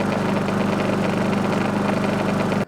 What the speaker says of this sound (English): Now I noticed in addition to the engine noise, there are some rattling noises from some of the plastic parts